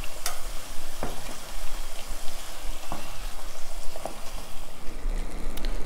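Food frying on a medium-low flame for bhel puri, a steady close crackle and sizzle with a few sharp clicks and taps of utensils, no talking.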